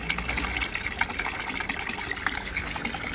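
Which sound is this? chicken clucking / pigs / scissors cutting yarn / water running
water running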